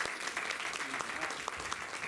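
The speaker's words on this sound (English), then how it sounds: "Give them applause." An audience at a Kwanzaa gathering applauds a focus group, brisk, fairly close clapping with a few individual claps standing out and a voice briefly heard under it.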